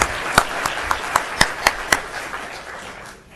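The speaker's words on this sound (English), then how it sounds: "Let's give our 7-year attendees a big hand of applause" A few people at a school board meeting clap to honor perfect-attendance students, sharp separate claps at a quick steady beat that thin out and fade within a few seconds.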